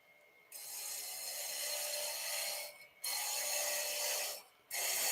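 A Carter and Son bowl gouge cuts maple on a woodturning lathe, making a steady bright scraping hiss in long sustained passes that break off briefly twice before resuming, with no talking.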